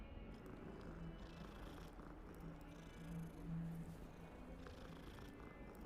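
A cat purring in Hogwarts Legacy, a soft, low, continuous rumbling purr that swells slightly midway, faint and alone without talk.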